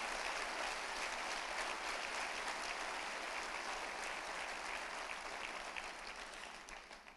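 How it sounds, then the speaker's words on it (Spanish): A church congregation claps in a dense, continuous wash of applause that stays fairly faint and even before tapering slightly at the end. "Si te vas a aplaudir al Señor"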